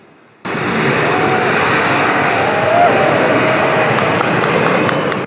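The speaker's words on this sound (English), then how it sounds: "An-178, has made its first takeoff from the airfield in Hostomel near Kyiv." An Antonov An-178 military cargo jet takes off from the airfield at Hostomel near Kyiv, a loud, steady engine roar that starts abruptly and holds strong and close throughout, with no talk.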